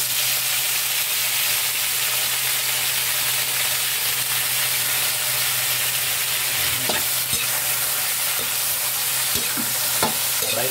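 Kangkong (water spinach) frying in a pan for adobong kangkong, giving a steady, loud sizzle and hiss throughout, with occasional sharp clinks and scrapes of a utensil stirring near the end; no talking.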